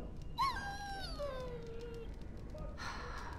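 A dog in the video game Dragon Age: Origins gives a drawn-out, wavering whimper that slides downward, loud and close, ending in a short breathy sound.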